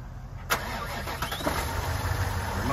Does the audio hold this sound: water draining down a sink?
no